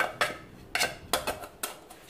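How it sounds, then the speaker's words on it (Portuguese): Four sharp metallic knocks of a pestle mashing garlic cloves in a metal pot, close and evenly spaced. "Desculpa o barulho, gente. É porque eu amassei na panela aqui."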